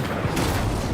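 Incendio fire spell cast in Hogwarts Legacy, heard as a brief, loud, broad rushing burst with a booming low end lasting about a second, with no voices.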